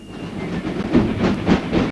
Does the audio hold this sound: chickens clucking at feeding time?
no